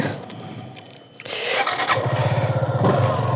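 A motorcycle engine with its wheel stuck in sand starts up and revs hard, a rough, loud, pulsing roar following a quieter idle, close by and without talk.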